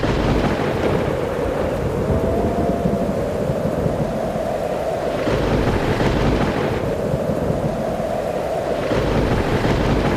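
Cartoon thunderstorm with steady heavy rain and rolling thunder rumbles swelling twice, loud and continuous with no voices.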